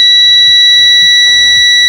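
Electronics on a DYU A5 e-bike beeping during a wiring test: a loud, steady high-pitched electronic tone that holds unbroken, with faint low thumps underneath.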